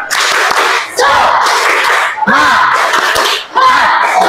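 A class of students claps a rhythmic spirit clap during an ice-breaking warm-up in a physical education lesson, with loud bursts of patterned clapping and chanting voices in a few repeated rounds.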